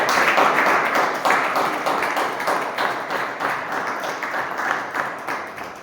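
Sustained applause from a crowd, steady and fairly loud throughout with dense overlapping claps, gradually tapering slightly toward the end.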